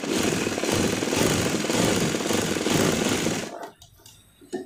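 A sewing machine runs steadily, stitching a side pocket on a pair of jeans trousers, loud and close with a rapid mechanical chatter that stops abruptly near the end.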